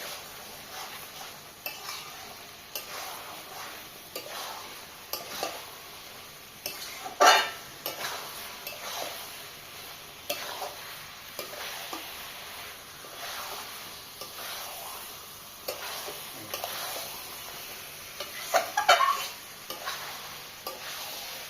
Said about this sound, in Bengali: আলুটাকে দিয়ে ভালো করে কষে নিয়ে জল ঢেলে ভালো করে কষে নিতে হবে